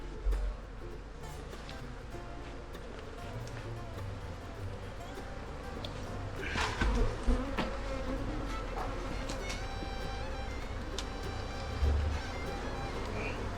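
Honeybees buzz steadily around an opened hive box during a hive swap, a continuous low drone with scattered louder passes close by, and a person speaks briefly over it.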